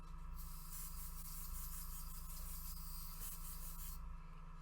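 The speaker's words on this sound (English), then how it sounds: "Now I'm spraying this from like a foot away." Aerosol spray paint is sprayed from about a foot away onto a Warhammer 40k model shadowbox, giving a steady, close, continuous hiss that lasts a few seconds and then stops, with no voices.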